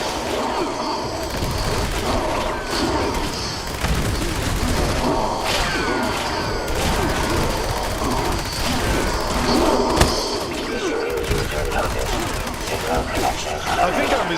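An explosive-round minigun in Fallout 76 fires continuously, a dense rattling barrage mixed with repeated booms and crashing impacts, loud and sustained with someone talking over the gunfire.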